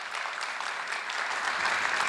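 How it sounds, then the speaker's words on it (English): An audience at an academic AI talk in Helsinki breaks into dense, sustained applause for a visiting professor, a continuous wash of many hands clapping that grows slightly louder over two seconds. "give a warm and big applause to Professor Matsuo"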